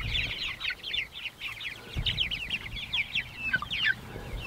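Several chickens cluck and chatter continuously at close range in a moveable coop after a predator attack, busy overlapping calls with a low rumble of background noise.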